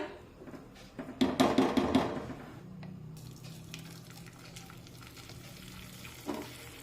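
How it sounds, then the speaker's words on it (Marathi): Hot milk being poured into vermicelli in a pan for sheviyachi kheer, a loud bubbling, hissing rush for about a second that settles into a quieter simmering sizzle with occasional clinks, close and with no voices. "हे गरम गरम दूध आपण शेवयांमध्ये टाकूया"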